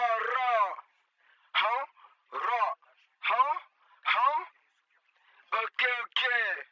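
A French-speaking voice speaks in short bursts, sounding thin and swirling with a chorus effect and wide stereo spread, with brief silences between phrases.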